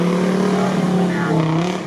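A powerful Mercedes engine in an off-road UAZ at an off-road trophy event roars steadily at high revs, a deep throaty drone holding for a couple of seconds before easing slightly at the end.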